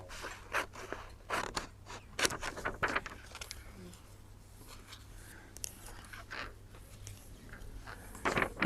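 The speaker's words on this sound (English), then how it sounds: "Trimming that top off" Scissors snip quietly through paper for a handbag journal, a string of short close cuts and crisp rustles with pauses between them.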